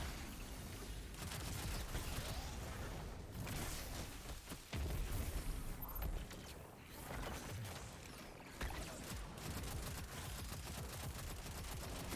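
Sustained gunfire in the Destiny video game, aimed at a void soul inside a lost sector, a dense continuous barrage of rapid shots and booms with no pauses and no talking.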